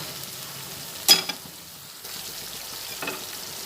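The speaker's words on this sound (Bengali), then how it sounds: "তেলের মধ্যে একটু ভেজে নিলাম এইটা" A raw mango and pointed gourd mixture with a little sugar fries softly in oil, a low sizzle broken by a sharp clink of the stirring spoon early on and faint scraping later, no voices.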